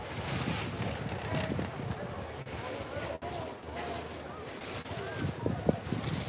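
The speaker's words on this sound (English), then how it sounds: "It's just a little bit windy" Wind on Mammoth Mountain, California, buffeting the microphone in a steady rushing roar with gusty swells, while a person talks over it.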